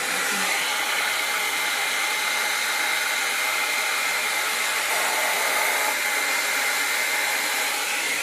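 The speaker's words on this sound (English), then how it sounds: "I'm gonna use my blow dryer." A handheld blow dryer runs steadily on hair for the whole stretch, a loud, close, continuous airy whoosh with no talk over it.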